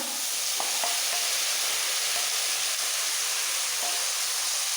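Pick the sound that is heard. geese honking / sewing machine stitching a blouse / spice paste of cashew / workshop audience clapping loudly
spice paste of cashew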